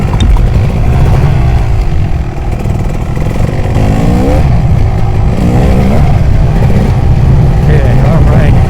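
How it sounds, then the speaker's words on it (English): A Kawasaki KX250 two-stroke enduro motorcycle on a muddy woods trail, its engine buzzing close and continuous at low throttle while the rear tire spins, with small revving swells throughout. "Barely giving the bike any throttle, but the tire's just spinning like crazy."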